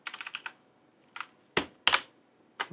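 Keys tapped on a Corsair K95 keyboard: a quick burst of five clicks, a pause, then a few single louder keystrokes, close and dry with no voices.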